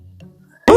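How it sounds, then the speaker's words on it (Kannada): A frog croaks once, a short, loud, close call at the very end, after a quiet stretch with low ambient water sounds at a waterfall. "ನೀರಿನಲ್ಲಿ ಗೋಂಗೂರು ಕಪ್ಪೆ"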